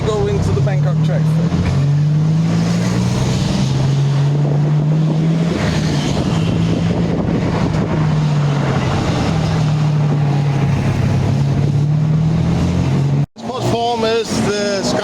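Riding in a tuk-tuk through Bangkok traffic, a continuous engine drone rises and falls in pitch under wind buffeting. Surrounding traffic noise carries throughout, and the sound cuts briefly near the end before resuming busier.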